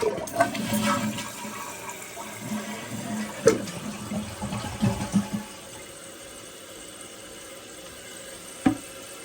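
A toilet flushes after its tank parts were replaced: a loud close rush of water swirling and draining for about five seconds, then the quieter hiss of the tank refilling, with a sharp clunk near the end.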